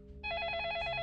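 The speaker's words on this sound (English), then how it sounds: "Oh, the phone! Let me pick up the phone." A telephone rings in the video game Façade, a sustained electronic bell tone with rapid warbling pulses that starts abruptly after a moment of quiet and continues loud and steady, with no talk over it.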